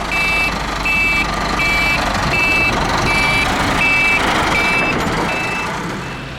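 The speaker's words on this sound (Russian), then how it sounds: "Вот так вот происходит подцепление плуга к трактору." Steady reversing beeps repeat at an even pace as a tractor backs up to hitch a plough, over a loud continuous engine rumble nearby.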